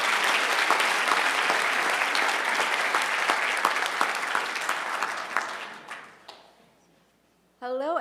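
Dense applause from an audience at a CreativeMornings New York morning talk, steady and loud for about six seconds before fading out, followed by a brief burst of voice at the very end.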